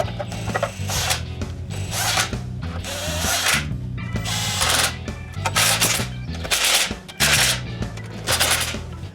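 Ratcheting and bursts of a power driver alternate as bolts draw a new Jeep transmission filter with cork gaskets into place, in short repeated runs with brief pauses between, close by.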